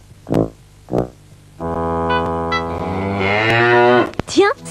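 A cow lows in a long, loud moo in a cheese advertisement, preceded by two short sharp knocks, the call rising and then breaking off near the end.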